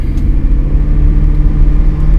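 A Cadillac XLR's engine runs steadily during a road drive, a loud continuous low rumble and drone with slight revving swells, no voices over it.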